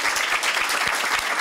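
Steady, dense applause from a crowd at the swearing-in ceremony of a United States Attorney General, continuous and fairly loud throughout.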